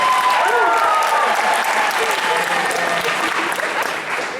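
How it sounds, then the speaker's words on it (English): Sustained audience applause for a band at a live event, dense and steady clapping throughout, with a few voices and cheers mixed in, tapering slightly at the end. "give them a round of applause, too"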